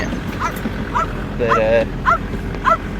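A sheepdog herding sheep outdoors on a farm gives a handful of short, high yelping barks spaced about half a second apart, with a brief spoken word in between.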